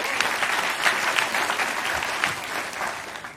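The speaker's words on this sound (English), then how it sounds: "Round of applause." Steady, dense audience applause fills a talk venue, many hands clapping together at an even level for the whole stretch with no pause.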